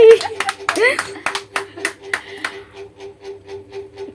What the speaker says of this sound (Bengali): হাততালি দাও একটা, এই মা একটা হাততালি দিচ্ছে রে